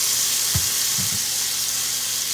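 Garlic and soy sauce fry in a pan, giving a steady close sizzle with a couple of brief bursts of louder crackle and spatter as ingredients hit the hot oil, without any talking.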